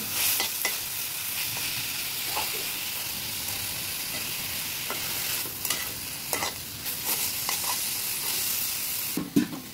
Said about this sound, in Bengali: এখন আরেকটা নাড়া দিচ্ছি।